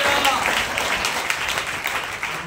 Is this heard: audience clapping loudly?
yes